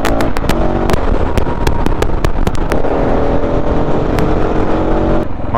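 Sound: motorcycle riding on a road in Croatia

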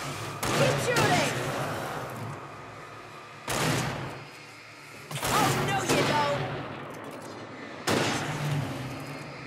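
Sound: gunfire in Alan Wake video game

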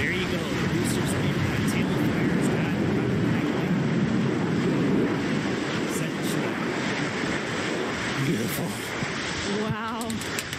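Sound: New Shepard rocket booster landing

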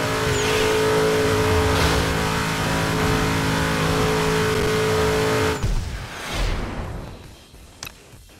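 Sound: car engine revving while racing in Midnight Club LA Remix video game

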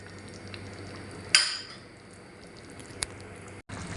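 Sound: adobo with potatoes and oyster sauce simmering in a pot

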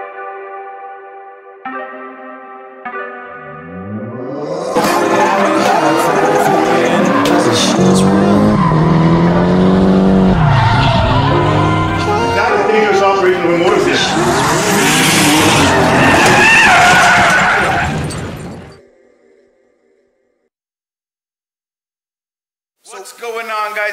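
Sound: car sliding with skidding tires

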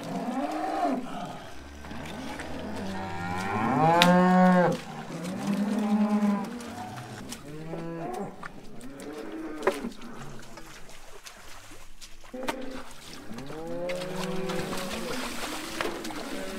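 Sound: cattle mooing

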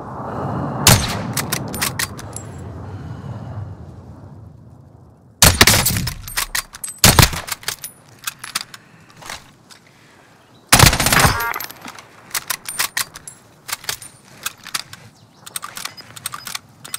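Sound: airstrike in video game Call of Duty Modern Warfare

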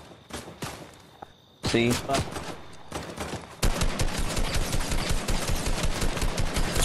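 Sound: gunfire in the video game Fortnite

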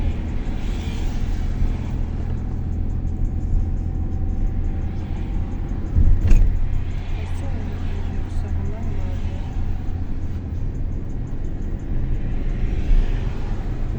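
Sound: car engine roaring loudly

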